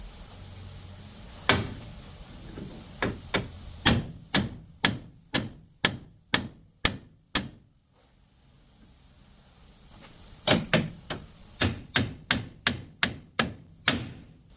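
Sharp metallic hammer blows on the torsion lug of a 60-year-old C-body car with a 383 and 4-speed, coming in quick uneven bursts of several strikes each with a short pause between groups, loud and close.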